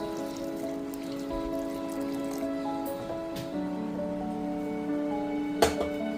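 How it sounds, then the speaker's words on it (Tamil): Water is poured into a cooking pan while making mango pachadi, giving a faint trickling sound over a steady background hum, with a brief splash near the end. "தேவையான அளவு தண்ணி ஊற்றணும்"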